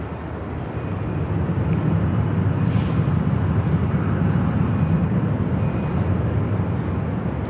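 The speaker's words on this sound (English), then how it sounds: "This E-Jet heading to Bozeman. It's an E175 LL Delta Connection SkyWest flight 3704." Embraer E175 regional jet of Delta Connection SkyWest at LAX, a steady loud broadband engine roar that holds throughout, near and continuous with no talk.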